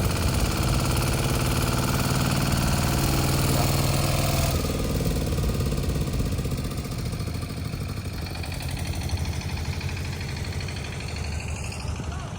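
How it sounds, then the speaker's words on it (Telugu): A water pump motor runs steadily at a capital-city construction site, a loud continuous engine-like drone that holds for the whole stretch, growing slightly rougher and thinner partway through. "అక్కడ నీళ్ళుంటే అవి మోటార్తో తొలగిస్తున్నారన్నమాట"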